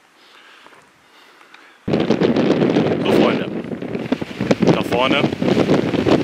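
Strong wind buffets the microphone on a coastal hiking trail on Karpathos, a sudden loud roaring rumble that starts after a quiet opening and continues with gusty bursts, while people speak over it.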